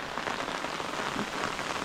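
Rain falls outdoors while pork is being grilled, a dense, even patter of drops on surfaces that stays close and steady throughout, with no talking.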